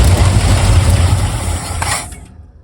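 A 1978 GMC truck engine, sitting unused for 17 years, runs hard at full throttle with a loud, dense mechanical roar and clatter that holds steady, then quickly drops away and cuts off near the end.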